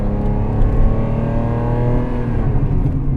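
A 1991 Ferrari Testarossa's engine pulls hard and loud from inside the car, a strong continuous rumbling drone under acceleration with no voices.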